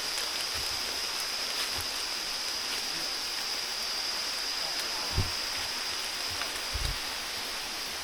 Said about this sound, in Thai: ฝนก็จะเริ่มตกเลยทุกคน